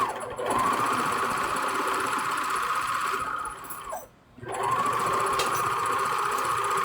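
A serger stitching upholstery fabric for a wingback chair runs in a fast, steady mechanical whir, stops briefly, then starts up again, close and fairly loud.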